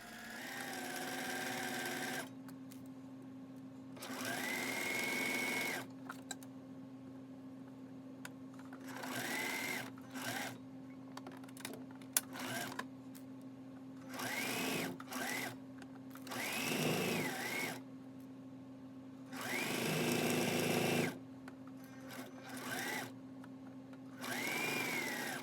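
A sewing machine stitching a 3/8-inch seam on a sleep bonnet runs in several steady, humming bursts of a few seconds each, separated by short pauses, close and clear.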